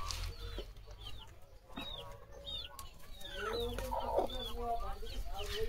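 Chickens and a rooster on a poultry farm in a village cluck and call repeatedly, short bursts of clucks and squawks near and farther off over a low farmyard background.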